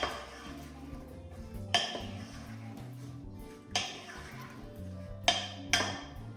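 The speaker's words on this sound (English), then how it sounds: "For the onions. And I'll just give it a little mix." A utensil clinks against a bowl while chopped onions and tomatoes are mixed, with a few sharp taps spaced a second or two apart over a quiet background.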